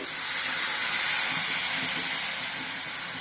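A steady, bubbling hiss of brinjal and dry fish curry simmering in a pot, close and continuous, with faint crackles underneath and no voices.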